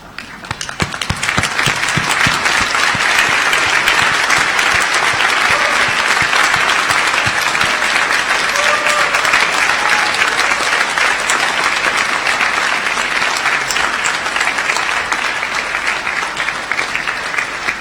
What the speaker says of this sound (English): I now invite you to stand and turn and express your gratitude with a round of applause